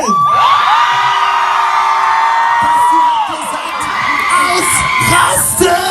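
Concert crowd at a Kölsch band's live show in Willroth going wild, a dense roar of whoops, yells and cheers, high-pitched shouts rising over each other, loud and close throughout.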